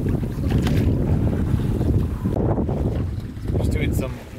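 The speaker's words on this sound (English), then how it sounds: "Just doing some lovely sailing right now." A sailboat moves under sail off the west coast of Baja, Mexico, with strong wind buffeting the microphone and water rushing past the hull continuously, loud and close.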